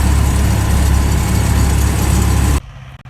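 Engine of the Gorynych agricultural seeding machine runs steadily while sowing, a loud continuous low drone that cuts off abruptly near the end, leaving quiet background.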